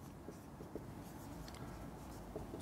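Chalk or marker writing out a math function on a board during a lecture on singularities and residues, a steady scratchy texture with a few small taps, quiet and close, no talking.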